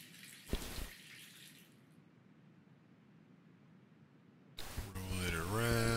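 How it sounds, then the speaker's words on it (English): Water dumped from a gold pan in a gold-prospecting video game gives a short splashing pour near the start, then a quiet stretch before louder sounds return at the end. "Dump off the extra water"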